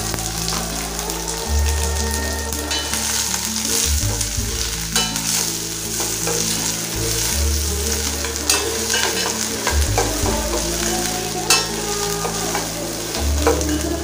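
Chopped small onions for mango pachadi sautéing in a pan, a steady close sizzle with repeated scraping strokes of a spatula stirring throughout, no voices.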